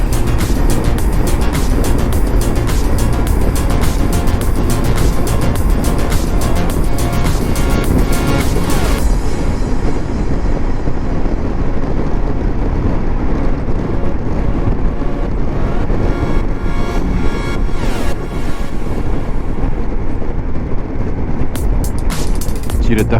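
A new bike rolls over a bumpy road, giving a continuous rough rattling and wind-buffeted rumble with dense jolts throughout, loud and close, easing slightly in the second half.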